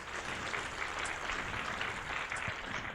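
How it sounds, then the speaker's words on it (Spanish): Church congregation applauding during a Spanish-language service at Nueva Vida Charlotte, a steady wash of clapping at moderate level lasting throughout without any speech over it. "Dese un aplauso, iglesia."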